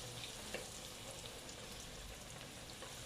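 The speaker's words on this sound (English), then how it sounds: "So literally, you want to fry them just until they're golden, just till they start to go golden." Chicken pieces deep-frying in oil at 180 degrees, a steady soft sizzle and crackle with faint pops, even and continuous throughout, no talk.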